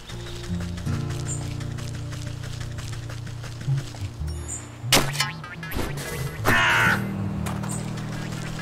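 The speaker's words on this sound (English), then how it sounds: "Loud-ass crow." A crow in the video game Wytchwood gives several harsh caws, loudest near the end, over steady background game music and a few scattered effects, with no speech.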